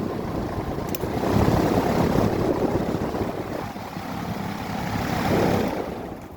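A 40-inch Maxx Air Pro Flex drum fan with a new belt runs on its high setting, giving a steady, loud broadband whoosh of moving air with a low rumble, swelling slightly twice across the stretch, no voices.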